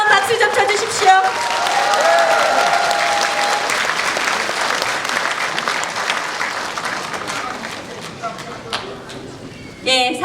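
Studio audience at a Korean talk show in Gwangju bursts into loud, sustained applause that gradually tapers off, with a host's voice briefly heard at the start and end.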